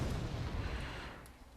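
Artillery bombardment in the wargame European Escalation, a low rumbling boom that fades out over a second or so, fairly distant and muffled.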